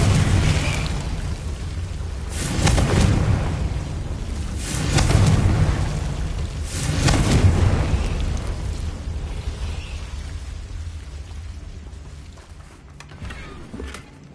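Repeated Confringo fire-spell explosions in the PS5 game Hogwarts Legacy, three loud booming blasts spaced a couple of seconds apart over a rumbling, crackling game soundscape, fading to quieter ambience.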